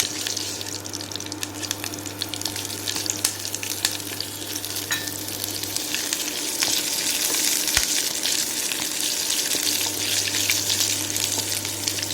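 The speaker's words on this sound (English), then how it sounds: "Now we will add our chilies into this." Chilies go into a hot pan for Gujarati khandvi. A loud, steady sizzle and frying hiss continue throughout, with a few sharp stirring clicks over a faint constant hum.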